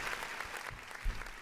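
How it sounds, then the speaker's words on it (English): Brief applause from a podcast studio audience, a short patter of claps rising near the end. "Thank you for the applause."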